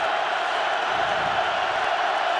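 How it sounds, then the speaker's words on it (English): Steady roar of a college football stadium crowd at Colorado at Nebraska on third down, a dense sustained wash of voices holding at constant loudness throughout with no breaks. "listen to the crowd. They know 3rd down."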